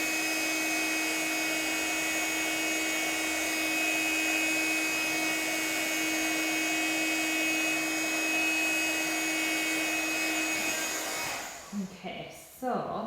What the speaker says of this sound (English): I'm just moving my heat gun over the image